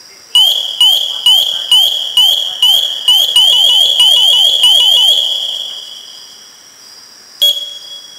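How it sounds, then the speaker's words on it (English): An SCBA PASS device alarm on a firefighter's breathing apparatus sounds loudly: a rapid run of repeated descending electronic chirps speeds up, merges into a steady shrill tone that fades, then one more sharp chirp. "The alarm consists of four distinct phases."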